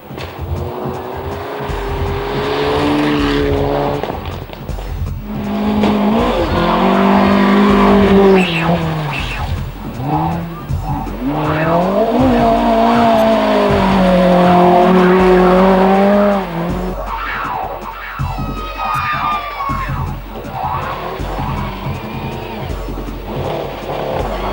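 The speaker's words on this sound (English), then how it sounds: "they do rally a wide variety of cars in Finland" Rally cars racing in Finland, roaring through gears with engines rising and falling and tires squealing and skidding, loud and close, then a distant engine fading.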